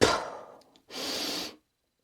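A voice imitates a forceful exhale after breath-holding during a squat: a short breathy burst that fades, a pause, then a longer steady hissing push of air that stops abruptly, close and alone.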